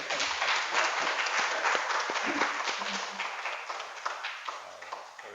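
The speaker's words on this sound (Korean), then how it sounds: "박수 한번 드릴까요?" Congregation applause during a Sunday service at a Won Buddhist temple, a dense patter of many hands clapping together that gradually fades, with a faint voice briefly audible.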